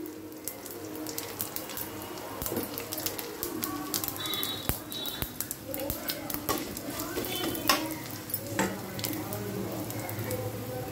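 Asafoetida goes into hot oil already holding tempering spices and three dried red chillies, producing a quiet, steady sizzle scattered with small crackles and stirring clicks, with faint bird calls in the background.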